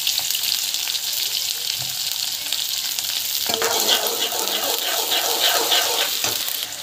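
Mustard seeds, cumin, onion and curry leaves fry in a kadai with a loud, dense, continuous sizzle. The hiss swells and grows busier partway through, and faint scrapes of stirring come up close, with no voices.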